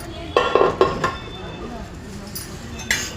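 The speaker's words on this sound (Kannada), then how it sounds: "ಅಷ್ಟರಲ್ಲಿ ಕುಕ್ಕರ್ ಓಪನ್ ಮಾಡೋಣ" A pressure cooker holding broken wheat pulao is opened with a few metal clanks and lid clinks in quick succession, close by, followed by quieter rattles and soft kitchen noise.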